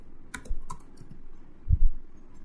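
Someone types briefly on a computer keyboard while filling in a spreadsheet cell, a few quick key clicks close up, then a louder thump near the end, with no talk.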